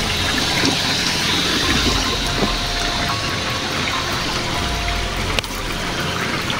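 Water from a small waterfall fed by little streams pours in a steady, continuous rush, loud and close, with a brief sharp knock near the end and no voices.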